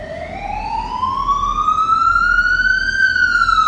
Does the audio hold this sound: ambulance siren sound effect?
yes